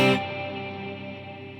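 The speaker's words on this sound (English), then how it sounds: "Here's an example of a basic hall reverb sound." Electric guitar played through a basic hall reverb, a single struck chord whose attack fades into a long, spacious sustained tail, heard alone without talk.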